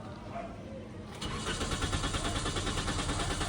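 A Toyota Vios brought in by tow truck, engine cranking with a steady rapid starter whir after a short pause, continuing without catching into a run, close and fairly loud.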